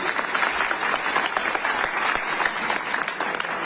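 Loud, dense applause from a crowd at a wedding ceremony greets an arriving guest and holds steady throughout.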